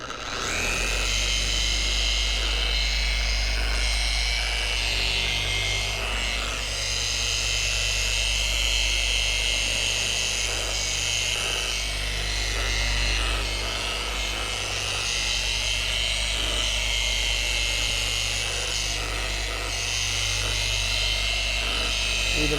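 A DIY Detail DA Correction Pro dual action polisher with a 25mm throw runs for a long, steady stretch, a loud, even mechanical whirr with a low hum beneath. People talk quietly over it.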